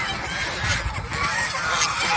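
A flock of domestic geese on a goose farm honks continuously and loudly nearby, a dense overlapping chorus of harsh calls.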